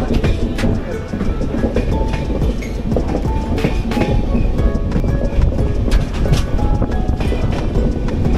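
A train rumbles along the rails with a loud, rhythmic clatter of wheels, heard close from onboard over a constant roar, travelling through North Bengal toward Assam.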